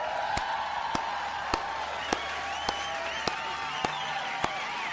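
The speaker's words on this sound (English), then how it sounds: "clap it up for you guys" Sharp, evenly spaced claps ring out about every half second, eight in a row, over a bed of crowd murmur and background chatter.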